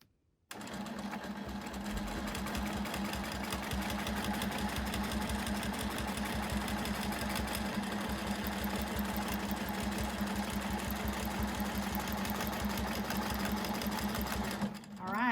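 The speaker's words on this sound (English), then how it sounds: "we'll start sewing this. All right, we're going to start here, we're going to quilt up to here, and we're going to quilt back down to here" Sewing machine quilting along a Westalee spinning wheel ruler, running continuously at a steady fast stitching rhythm for the whole stretch. It stops briefly at the end, close and loud with no talk over it.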